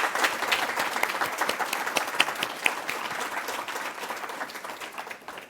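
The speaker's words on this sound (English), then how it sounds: "let's give a hearty round of applause for the Nova Scotia Status of Women Office" An audience at the 2024 Nova Scotia Digital Inclusion Awards ceremony applauds steadily, a dense, even wash of many hands clapping that holds throughout and tapers slightly at the end.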